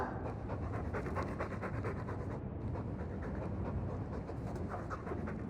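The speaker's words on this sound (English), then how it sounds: "I'm sick of what's-his-name staring and panting. Gamlen, honestly, a Mabari understands what you say" A Mabari war dog in the video game Dragon Age 2 pants in a rapid, steady rhythm, close and continuous throughout without pause.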